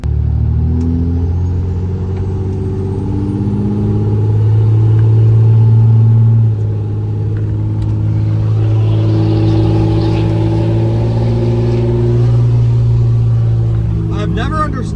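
A third-generation Cummins diesel pickup truck, fully loaded, idling and running with a steady low rumbling drone that swells slightly as the engine revs, close by and continuous with faint voices in the background.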